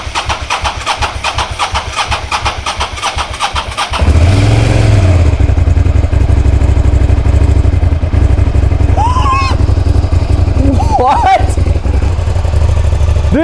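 An abandoned Suzuki SV650 motorcycle cranks with a rapid rhythmic starter whir, then fires up at about four seconds and settles into a loud, close, steady idle, with brief excited voices rising over the engine later on.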